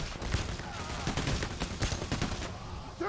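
Heavy automatic gunfire in the heist shooter video game Payday: The Heist, with dense overlapping bursts of shots that keep up steadily throughout.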